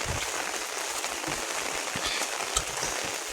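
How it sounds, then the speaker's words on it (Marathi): Steady hiss of heavy monsoon rain pouring down, a constant dense wash with occasional louder drips, no voices. "पाऊस वाढला आहे भरपूर आता"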